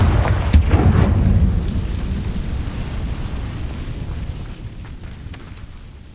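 Confringo fire spell exploding in the video game Hogwarts Legacy: a sharp booming blast at the start, followed by a heavy rumbling roar that slowly fades over several seconds.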